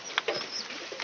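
A pigeon that has suddenly fallen sick gives a brief, soft coo at close range, a few low murmuring notes lasting about a second. No voices.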